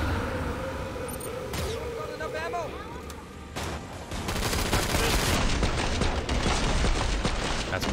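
Heavy gunfire in the video game Killing Floor 2, starting with scattered shots and squeals and then swelling into a continuous, loud barrage of rapid automatic fire that mixes with voices.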